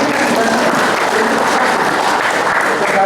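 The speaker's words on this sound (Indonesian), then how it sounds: "Tepuk tangan itu sekarang." Brief, loud applause from an audience at a farewell and welcome ceremony for the head of an agricultural institute in East Java, thick continuous clapping with crowd murmur under it.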